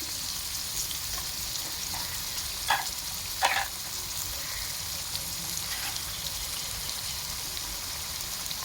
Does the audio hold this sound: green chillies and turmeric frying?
yes